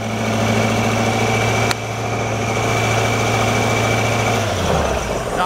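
An Amtex Inferno 500 engine runs loud and close with a steady buzzing drone and a sharp click partway through, then its pitch drops as it winds down at the end.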